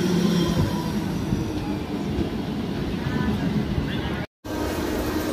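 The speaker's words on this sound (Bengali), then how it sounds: "আমাদের লোকাল ট্রেন হুগলিঘাট রেলওয়ে স্টেশনে ঢুকছে" Local train pulling into Hooghly Ghat railway station, a loud continuous rumble of wheels and carriages with faint squeal, steady throughout.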